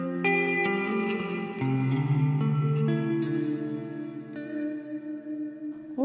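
An electric guitar played through a Line 6 POD Express modeling amp with a shimmery effect sustains layered chords that ring with bright, wavering overtones, each change blooming into a long reverberant wash with no talking.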